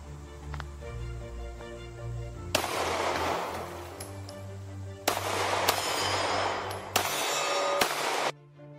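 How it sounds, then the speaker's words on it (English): P-08 Luger pistol firing three loud, sharp shots at roughly two-second intervals, each sudden bang followed by a ringing tail, close by with no talking. "Couple more shots."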